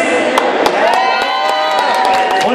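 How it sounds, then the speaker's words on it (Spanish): An audience in a dance hall claps and cheers for a woman named Liz, a busy wash of voices and sharp hand claps that stays loud and even for the whole stretch. "A ver, un aplauso para Liz"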